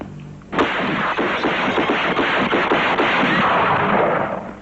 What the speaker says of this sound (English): with 9 shots through a window